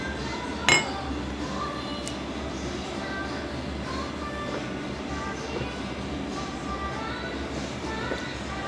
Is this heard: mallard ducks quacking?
no